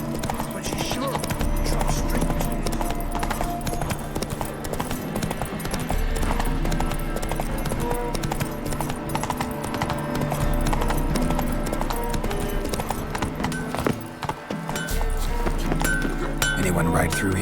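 Horse hooves clip-clop steadily in The Witcher 3, a continuous rhythmic trot mixed into dense game music and ambience, with voices talking over it.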